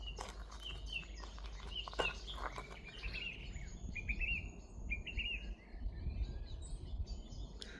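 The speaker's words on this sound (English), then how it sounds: "you can hear the birds" Birds chirp and sing in scattered short phrases, fairly faint and at some distance, over a soft outdoor moorland background with light rustling.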